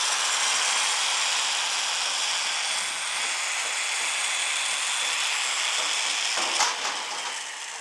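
Drill pulling a hinge pin out of a Model A hood, a continuous loud, close whirring grind that holds steady throughout with a brief rattle near the end.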